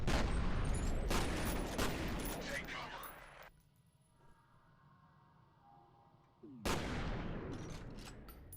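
Loud bursts of gunfire and grenade blasts in F.E.A.R. break off into a quiet stretch, then a sharp, heavy burst of combat noise returns.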